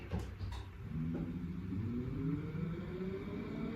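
A small micro tugboat motor runs steadily close by, a low even droning hum with no change in pace.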